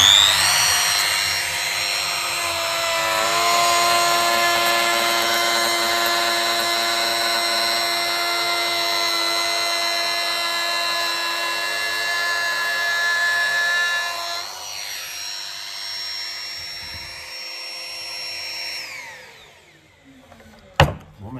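A Fartools AE 850 router cuts ash wood, giving a loud, steady high-pitched whine under load for about fifteen seconds before it spins down and stops, with a faint knock at the end.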